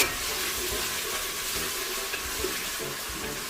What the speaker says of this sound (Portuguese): Agora eu vou deixar a cebola puxar um pouco até ela começar a dourar